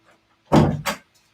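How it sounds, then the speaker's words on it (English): An indoor door is pushed shut with a close, loud double thud, a heavy knock followed by a quick latching bump, then quiet. "I'm going to close my door"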